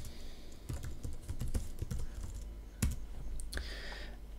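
A computer keyboard is typed on at close range while a password is entered into a WordPress login, giving a quick irregular run of clicks over a low hum with a few sharper keystrokes.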